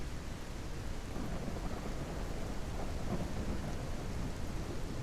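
Steady rumbling thunder and heavy rain in a jungle thunderstorm, a broad continuous roar filling the background with no pauses or voices.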